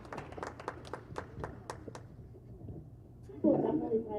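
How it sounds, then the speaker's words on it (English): Indoor clapping from a school board meeting audience starts near the end, after a stretch of someone speaking, and rises briefly to a louder burst. "So let's give them a round of applause as well."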